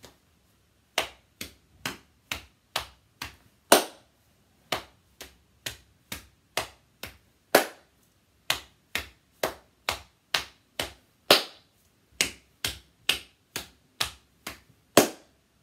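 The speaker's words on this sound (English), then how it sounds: "Did you clap at the same time as me?" Sharp, separate claps sound along in a music lesson, roughly one per half second with occasional short pauses, crisp and close in an otherwise quiet room with no talking.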